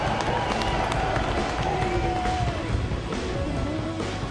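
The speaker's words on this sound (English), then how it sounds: "The crowd goes wild for the defending champion, who passed the grandstands in first place" Dense crowd roar and cheering at the grandstands in the Gran Turismo 5 Nürburgring 24-hour race, loud and sustained throughout, with a faint tonal engine-like whine gliding through the noise.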